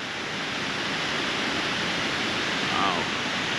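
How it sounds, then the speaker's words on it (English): Steady broadband rush of falling water from a waterfall beside a stupa on the Annapurna Base Camp trek, continuous and fairly close, with no pauses or distinct events. "this waterfall next to it."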